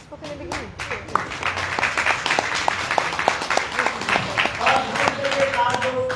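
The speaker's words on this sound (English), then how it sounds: "So please clap" Audience members at a devotional Bhagavat-saptaha gathering in Bhuj clap, scattered hand claps building into looser applause, moderately loud, with people talking and murmuring over it.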